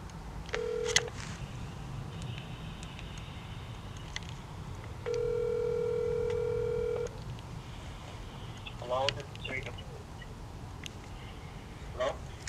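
Star 67 is dialed on a telephone keypad, giving a short touch-tone beep and then a longer sustained tone, with faint voices and background murmur around it.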